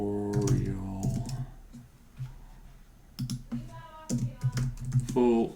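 Computer keyboard typing while entering code into a course app, with bursts of clicking keys in short runs and pauses, close and moderately loud, mixed with a harmonic voice-like tone at times.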